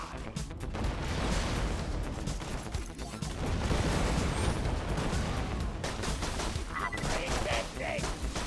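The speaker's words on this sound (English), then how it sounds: "Throwing grenade." Heavy gunfire and blasts from a grenade throw in Borderlands 2 on Xbox One, a dense, continuous barrage of bursts and booms running loud throughout with no pause.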